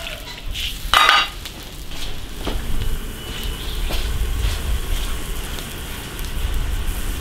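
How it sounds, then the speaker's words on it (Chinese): Beef intestines hitting a hot iron wok, a steady sizzle and frying hiss after a sharp initial burst, continuing evenly throughout. "牛肠下锅"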